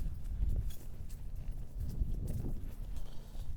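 Hooves of a horse on an early ride outside the arena clop steadily at a walk, moderately close amid low outdoor rumble.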